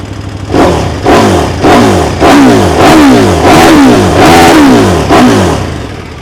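A 2024 KTM 1290 Super Duke GT motorcycle engine revs hard repeatedly up close, each loud throttle blip rising and falling in quick succession with no pauses between.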